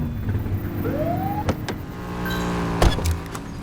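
A short police siren blip from a patrol car in the LCPDFR police game, a brief rising wail over a steady engine hum with a couple of sharp clicks.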